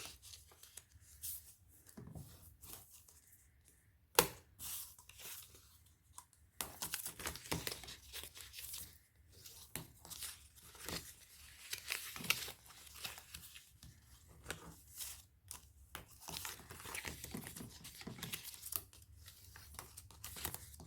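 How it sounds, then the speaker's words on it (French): Paper being folded and creased by hand while assembling a tea advent calendar, with bursts of crinkling, rubbing and sharp creasing sounds in an irregular rhythm, close and fairly quiet, no talk. "On vient marquer les plis."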